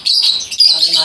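Lovebirds at a breeder's aviary, with dense, shrill chirping from many birds overlapping briefly and loudly, and a voice mixed in underneath.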